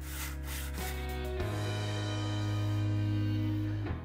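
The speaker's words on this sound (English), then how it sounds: "A little bit of sanding with the random orbit sander and some hand sanding." A random orbit sander hums steadily against wood, a continuous buzzing drone that shifts pitch slightly partway through, close and fairly loud.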